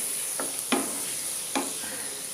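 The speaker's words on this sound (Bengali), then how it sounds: "তো এটা আরেকটু আমাকে ভাজতে হবে" Onions frying in a pan for paneer keema, a steady soft sizzle with a few sharp scraping stirs standing out, close and fairly quiet.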